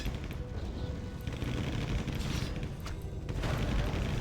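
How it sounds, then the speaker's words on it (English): Flak cannons firing during a Warcraft III battle between undead and human armies, a dense, continuous rattle of rapid gunfire-like bursts and booms layered over steady game noise, loud and unbroken throughout. "Flak cannons doing tremendous damage."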